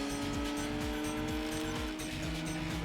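A racing car engine in Gran Turismo 2 roars steadily, its pitch climbing and dropping repeatedly through gear shifts, loud and continuous with no talking.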